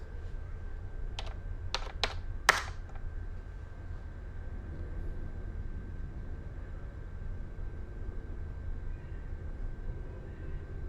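Keyboard keys are typed in a few quick bursts early on in the video game Telling Lies, clicks standing out over a quiet, steady low hum that continues alone afterward.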